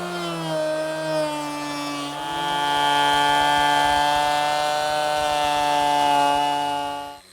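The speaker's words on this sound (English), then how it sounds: "attached my guide fence to my router" A wood router rides a guide fence along a straight edge, shaping the top of a wooden flagpole, giving a steady, loud, high-pitched whine that rises slightly as it bites and holds for several seconds before cutting off.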